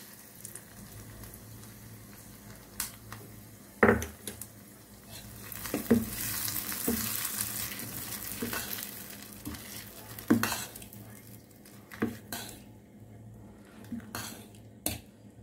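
A spoon clinks against a bowl while fried cashew tempering is stirred into idli batter for Kanchipuram temple idli, with scattered metallic taps and a soft, wet mixing sound in a quiet kitchen.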